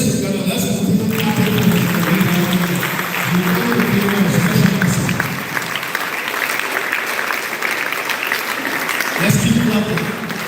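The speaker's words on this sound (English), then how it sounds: "let's keep clapping. Let's keep clapping." An audience at a live program launch event applauds steadily throughout, with a voice speaking over the clapping at the start and again near the end.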